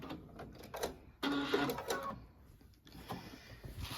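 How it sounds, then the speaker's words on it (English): Sewing machine stitching in the ditch on a thick quilted snow globe wall hanging, with short mechanical bursts of rapid whirring and clatter, a longer louder run in the middle, then quieter stops and starts. "I got done with all my stitching in the ditch"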